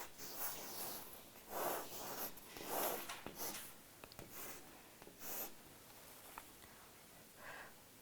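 Pen strokes scratching across paper in short bursts with pauses between them, close and fairly quiet, with no voice while the writing goes on.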